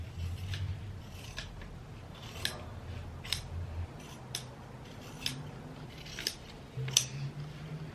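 Scissors snipping through fabric facings, a string of crisp isolated cuts spaced about a second apart, close and fairly quiet over a low background hum.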